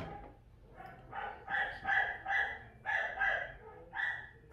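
A female dog barks in a rhythmic series of fairly faint barks in the background of an indoor trumpet repair workspace, with no talk over it.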